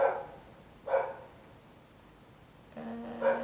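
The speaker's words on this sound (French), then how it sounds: "il y a un chien qui aboie" A dog barks outside an open window, three separate short barks spaced about a second apart, moderately distant and standing alone in a quiet room.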